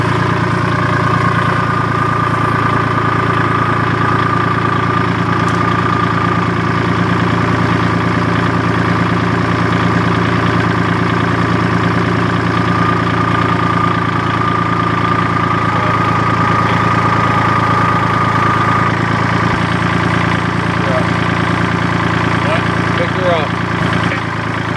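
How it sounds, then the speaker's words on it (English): An old Kubota tractor idles steadily before pulling a disc for food plot work, its engine drone continuous, close and loud, with only faint changes across the stretch. "The old Kubota does most of our food plot work for us."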